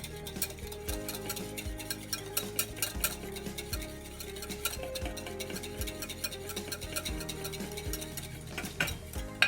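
Butter is whisked into a hollandaise sauce, with rapid rhythmic whisk ticks against the bowl running throughout over background music, close and steady.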